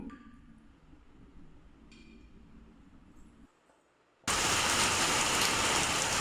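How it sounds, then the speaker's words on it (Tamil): Quiet room noise gives way to loud, steady rain pouring down, a dense hiss that continues without pause. "வெளியே மழை பெய்ய ஸ்டார்ட் ஆகிடுச்சு."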